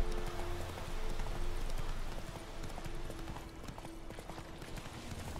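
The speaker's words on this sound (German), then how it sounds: "Ich bin ja mit dem Pferd auch relativ schnell unterwegs." Horse hooves clip-clop at a fast pace in The Witcher 3, a steady, close galloping patter over game ambience with no break.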